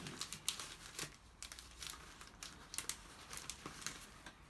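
Scissors or a blade cut a cardstock strip for card making, giving a quiet, close run of crisp crinkly snips and small paper rustles in an uneven patter.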